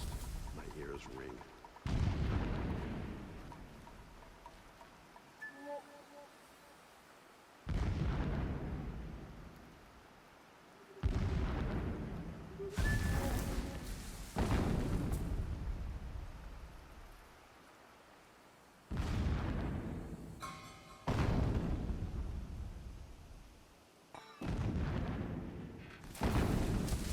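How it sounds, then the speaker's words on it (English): Booming explosions in Horizon Zero Dawn, a series of about eight loud blasts each rolling out into a rumbling decay, spaced several seconds apart with quieter gaps between them. "Another blast. My ears ring."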